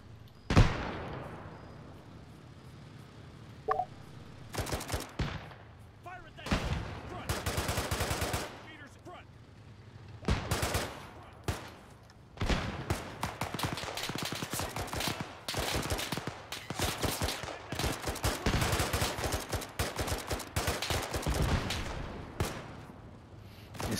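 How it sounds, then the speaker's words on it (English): Gunfire from a World War II setting in ArmA 3, with repeated bursts of automatic fire and single shots cracking at irregular intervals, some loud and close, over steady background rumble. "Someone's shooting at us."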